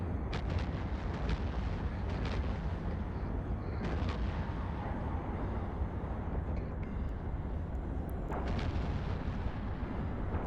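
Ship weapons fire repeatedly in the EVE Online space game, a dense rumbling barrage of booming shots with sharper bursts at intervals, loud and steady throughout without speech.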